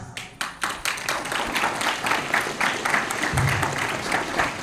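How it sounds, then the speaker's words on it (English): An audience breaks into warm applause to welcome a guest at a formal welcome ceremony, clapping building from a few hands into steady, dense applause that carries on throughout. "Vijay Kumari, Secretary of Assisi Province, with a warm applause."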